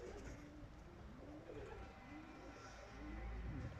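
Pigeons coo softly in repeated low, rolling calls, close by, over a faint background hiss.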